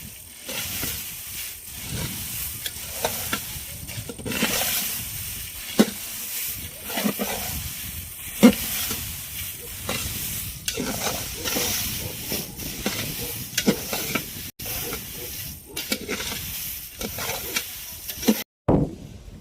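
Chillies roasting outdoors over a wood-fired clay stove, with a steady breezy hiss and scattered sharp crackles and pops running throughout.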